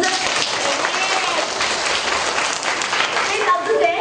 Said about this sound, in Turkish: Bir alkışlayalım arkadaşımızı